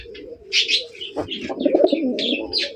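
A Bombay racer golla pigeon coos in repeated throaty bursts mixed with soft chirps, close and clear, a few calls over a few seconds with no talking.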